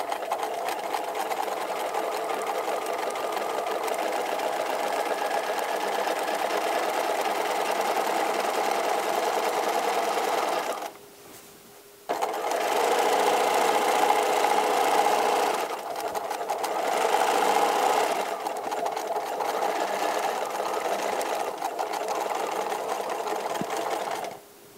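A sewing machine runs steadily, stitching a fabric gift bag, with a steady whirring drone that pauses briefly near the middle and then resumes in two more bursts of stitching. No talking.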